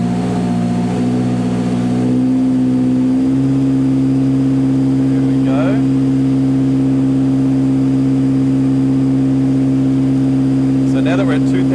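A K24 engine in a Mazda 121 with individual throttle bodies holds a steady rev near 2000 RPM, a loud constant drone with a firm low hum throughout, a slight rise in pitch early on and faint background sounds.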